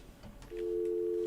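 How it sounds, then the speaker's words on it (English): A steady telephone dial tone starts abruptly after a brief pause and holds continuously, clear and close. "Oh, you're a dial tone."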